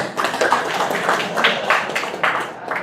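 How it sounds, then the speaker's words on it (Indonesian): Applause from an audience at a talk on mosque management, a dense continuous patter of clapping that swells in small waves for a few seconds. "Tepuk tangan untuk kami."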